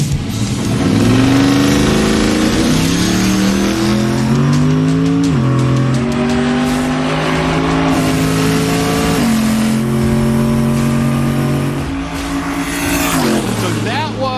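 A hot rod drag car with a new forged bottom end launches down a drag strip: a loud, close engine roar climbs in pitch through several gear changes and holds strong throughout.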